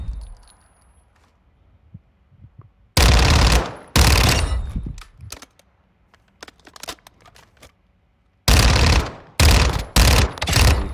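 Automatic fire from the FTAC SMG in Modern Warfare 2 comes in two long, loud, rapid bursts, with shorter bursts and single shots between them over a quiet background.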